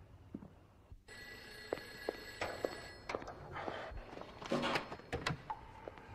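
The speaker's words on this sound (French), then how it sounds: "J'étais en train de préparer un corps quand le téléphone a sonné." A telephone bell rings in a funeral home at night, starting after a brief quiet pause with a sustained metallic ringing tone, followed by footsteps and shuffling movement nearby.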